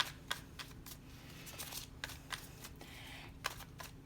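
A deck of cards is shuffled for a card reading, with soft riffles and sharp snapping flicks in quick irregular bursts, close and fairly quiet.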